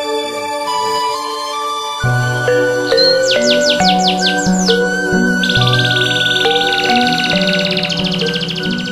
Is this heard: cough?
no